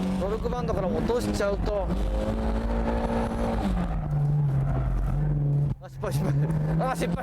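A Toyota AE86 Corolla's twin-cam engine revs hard and steadily while drifting, its pitch sliding up and down as the throttle is worked, with a brief dip before the roar returns.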